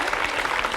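A studio audience on a French talk show applauds in a brief, dense, even burst of many hands clapping.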